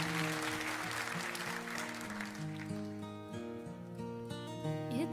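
Applause from an audience in a played recording of a performance, fairly faint, with sustained musical tones ringing under and through the clapping.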